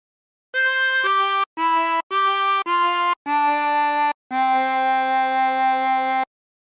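A harmonica plays a Silent Night phrase using bends: seven clean, reedy notes with short gaps between them, the last one held longest, loud and close with no other sound.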